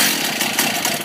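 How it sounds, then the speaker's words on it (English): A Stihl MS290 Farmboss chainsaw roars close and loud on full choke just after starting, a dense, steady engine buzz with no pause or talk. "now you'll hear it start on full bore"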